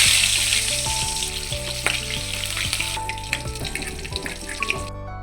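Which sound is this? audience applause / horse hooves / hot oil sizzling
hot oil sizzling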